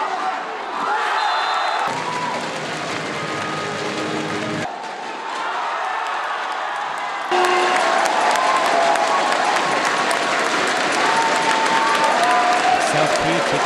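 A home crowd at a medal ceremony applauds and cheers, a dense wash of clapping and shouts that swells louder in the final seconds, with an announcer talking over it.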